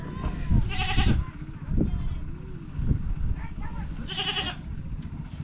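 Goats bleat twice in a river char village, wavering cries rising over outdoor murmur and people talking nearby, fairly close.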